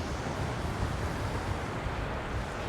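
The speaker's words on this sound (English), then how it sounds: "Just got windy again" Steady, full-bodied coastal wind on the Bristol Channel roars across the microphone with a constant broadband rush, unbroken for the whole stretch.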